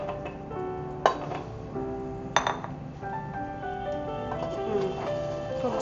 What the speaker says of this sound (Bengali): সবজিগুলো দিয়েও আমি সুন্দর করে নাড়িয়ে চাড়িয়ে নিই এটা দিয়ে।